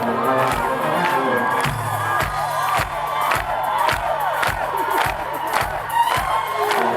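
A large concert crowd at a live show cheers and shouts continuously, with whoops and high-pitched screams over rhythmic thumping, loud and sustained.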